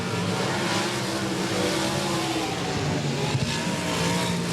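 Sprint car engines roar continuously around the dirt oval at Golden Triangle Raceway Park, a loud, dense wall of racing engine noise with steady throttle and no pauses.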